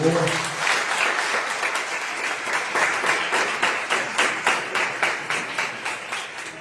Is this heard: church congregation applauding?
yes